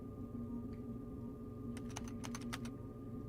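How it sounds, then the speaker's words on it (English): Burst of quick keystrokes on a computer keyboard during gaming, a cluster of sharp clicks in the second half over steady background hum and music. "Can I type? Can I use normal typing?"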